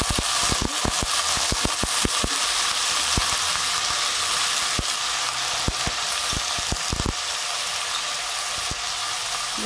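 Taro stalks (takway) sizzle and fry in a pan for adobong takway, a steady loud crackle broken by frequent sharp pops and clicks throughout, with no talking.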